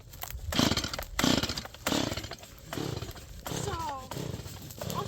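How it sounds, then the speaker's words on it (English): A Stihl chainsaw works through a log in the woods, its engine rising and falling in repeated loud bursts of cutting, with people talking and exclaiming over it. "I'm gonna get this chainsaw fired up"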